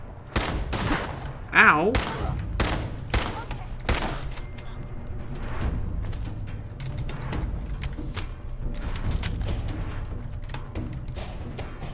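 Rapid pistol gunfire crackles in Fallout 4 gameplay, with repeated sharp shots in quick bursts spread across the clip, close and loud, under a brief spoken exclamation.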